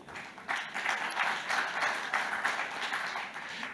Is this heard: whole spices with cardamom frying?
no